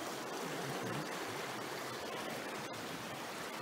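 Small river flowing beneath a trail bridge in northern Michigan woods, a steady babbling brook rushing close by, continuous and even with no voices.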